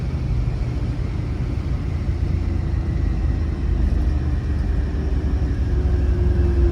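A 1964 Ford Galaxie 500XL convertible cruises at 44 mph, heard from inside as a constant loud low road rumble and engine drone with wind noise, steady throughout and without talk.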